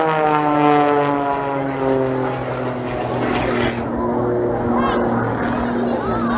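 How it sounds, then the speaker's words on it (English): A jet aircraft performs at the English Riviera Air Show 2023, its loud engine roar held throughout with a tone that glides steadily downward as it passes, heard at close range in the open air. "when you're going into the vertical, then you can hear the jets coming in"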